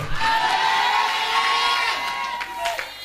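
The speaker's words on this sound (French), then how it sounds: "Maintenant, debout, acclame pour Jésus." A church congregation stands cheering and whooping for Jesus, a loud crowd of excited voices filling the space and fading out at the end.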